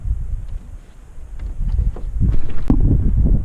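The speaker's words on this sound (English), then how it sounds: "It's pretty windy up here." Strong wind buffets a lake dock in the hills, a steady low rumbling roar with gusts that build and grow louder toward the end, with faint rustling on top and no talking.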